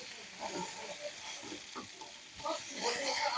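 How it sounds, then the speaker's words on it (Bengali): Pointed gourd (potol) pieces frying in a pan for a Bengali shrimp curry, a soft sizzle with occasional stirring scrapes, moderately close and fairly quiet throughout. "পটলটাও আমি একটু লাল লাল করে ভেজে নেব"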